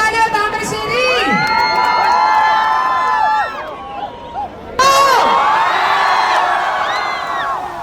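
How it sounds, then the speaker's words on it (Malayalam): A large crowd at a myG shop inauguration in Thamarassery breaks into loud cheering, whooping and high-pitched shouting, which dips briefly and then swells again. "ഒരിക്കൽ കൂടെ നല്ലൊരു കൈയടിച്ച് അവരെ സ്വാഗതം ചെയ്യുന്നു"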